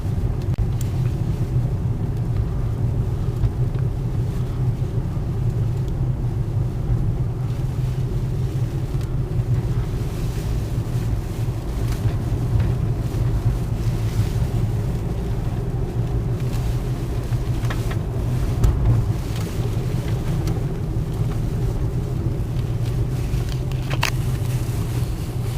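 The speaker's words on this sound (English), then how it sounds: "there is some wind up here" Steady wind buffeting the open air high on Mount Lemmon in Arizona, a continuous low rumble with a faint higher hiss running throughout, fairly loud and unbroken, no voices.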